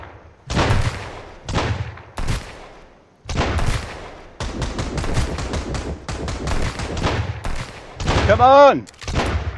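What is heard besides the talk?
gunfire in the video game Sunkenland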